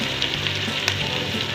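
Ginger garlic paste fries with golden brown onions in a pan, giving a loud, steady sizzle with faint stirring scrapes throughout and no voices.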